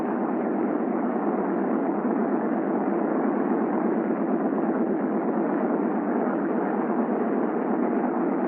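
A C-47 aircraft engine runs up to 1,500 RPM, giving a steady, unbroken droning roar at an even level throughout, with no voices.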